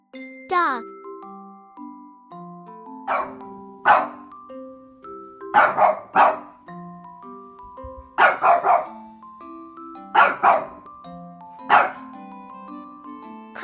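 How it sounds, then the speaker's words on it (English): A dog gives a string of short, sharp barks in small groups with irregular spacing, close and fairly loud. Light chiming tones ring softly underneath. "dog."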